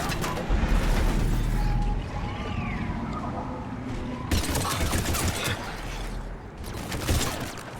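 Gunfire and explosive combat effects in a sci-fi shooter video game, with a semi-automatic pistol among them, sound as loud, dense, continuous bursts and crashing impacts throughout, with no talking.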